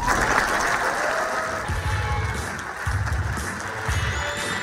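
A crowd applauds Vice President Mike Pence at the Marriott Hotel with steady, sustained clapping that fills the room, low voices briefly audible beneath it.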